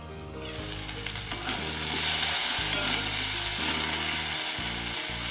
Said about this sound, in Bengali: দেখুন আলুটা একটু হালকা করে ভাজা হয়ে গেছে